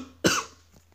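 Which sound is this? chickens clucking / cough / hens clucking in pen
cough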